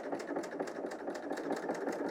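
A BERNINA L 890 sews a knit top in a steady, rhythmic mechanical hum with a fast pulsing beat throughout, close and unbroken.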